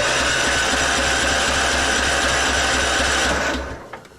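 A 1999 Husqvarna LTH 130 lawn tractor engine runs roughly on choke with a loud, close, buzzing idle for several seconds, then cuts out and falls quiet at the end.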